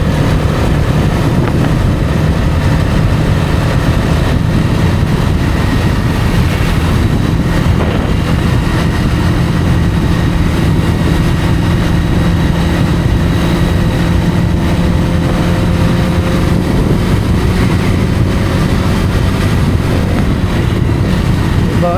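A motorbike engine drones steadily in sixth gear on a cold, foggy night ride without braking, a continuous loud hum mixed with rushing wind noise and no speech.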